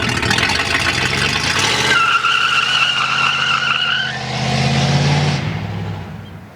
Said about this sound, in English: the only thing we can do about it is a burnout